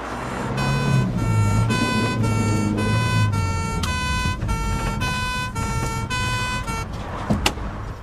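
An ambulance siren wails loudly and close, its repeating tones cycling over a low engine rumble, with no talking.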